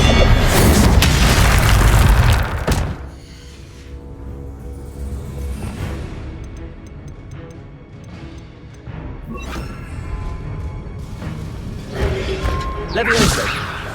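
Incendio fire spell cast in Hogwarts Legacy on Xbox Series X, a loud booming burst at the start that drops to a quieter tonal background, then a second rising burst near the end.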